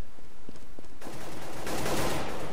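Explosions and rapid gunfire from a CS:GO match, beginning as a few scattered soft thumps, then erupting into a dense, loud barrage of bursts and blasts that fills the rest of the moment.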